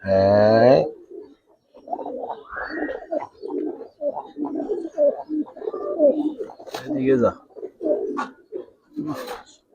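Giribaz colouring pigeons give a short, throaty coo at the start, then someone talks steadily while softer bird sounds mix into the background.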